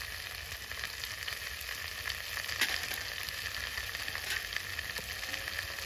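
Spices, green chilli paste and turmeric sizzle in hot oil in a frying pan for a village-style taro and fish dish. The frying is steady and close, with a bright hiss and occasional louder spits. No one talks.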